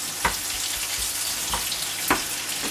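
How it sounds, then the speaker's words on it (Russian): Potatoes and mushrooms fry in a pan in a home kitchen, giving a steady broadband sizzle with a few louder clicks and stirring knocks at irregular intervals. "Мужу жарю картошку с грибами."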